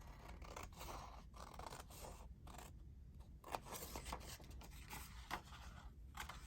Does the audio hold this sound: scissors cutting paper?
yes